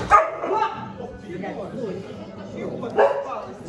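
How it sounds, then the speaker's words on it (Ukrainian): A few sharp barks ring out near the start and again near the end, with people talking over them. "Чого вони на тебе гавкають?"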